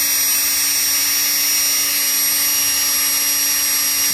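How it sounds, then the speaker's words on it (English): A wire wheel on a power tool cleans old brake wheel cylinder parts clamped in a vise, rear drum brakes from a 1989 Ford F-350, giving a continuous loud whirring grind with a steady high whine, close and unbroken. "So I always take these, put them in the vise, get a wire wheel."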